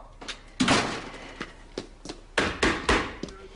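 Several sharp door bangs in an indoor sitcom scene, one heavy slam after another in an uneven rhythm, loud and close, with faint voices and audience noise between the hits.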